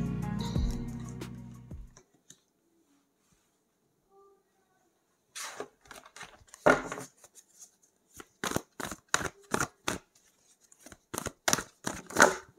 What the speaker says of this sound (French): les cartes sont un peu difficiles à battre, elles sont grandes